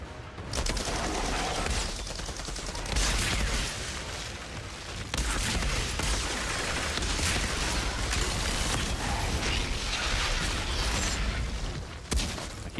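Dense, continuous gunfire rattles against a turret in the game Outriders, loud rapid bursts with brief gaps and booming impacts running the whole stretch.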